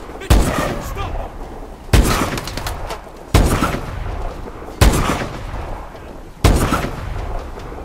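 Heavy gunfire from Call of Duty: Advanced Warfare, five loud booming volleys spaced about a second and a half apart, each with a rolling echoing tail over continuous battle noise, with shouted voices mixed in.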